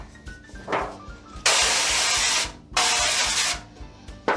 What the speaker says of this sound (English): So go ahead and spray it down.